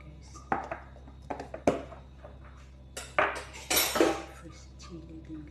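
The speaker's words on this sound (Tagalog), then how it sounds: "Tapos haluin natin yan" Chicken skin adobo with crushed and fresh chili is stirred in a pan, with a series of metallic clinks and scrapes from a utensil against the pan, close up and irregular, over a low background hum.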